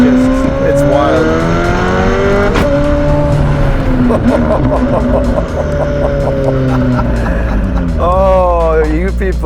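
A 1000hp McLaren 720S with a Novitec exhaust accelerates hard, a loud, close engine climbing through repeated rising pulls, with voices talking over the roar.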